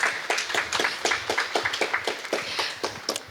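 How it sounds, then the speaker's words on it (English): Audience at a talk on medication prescription errors clapping for the speakers, a fairly quick, even patter of hands from a modest crowd, moderately loud throughout. "please give our speakers a round of applause for being here too"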